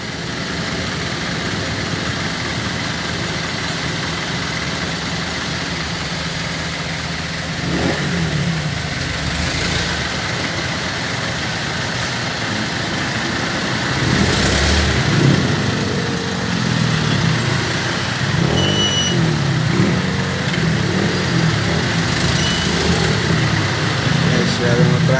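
Motorcycle engines idle and rev in dense nighttime traffic, a steady mid-pitched drone with occasional louder passes nearby, growing busier toward the end.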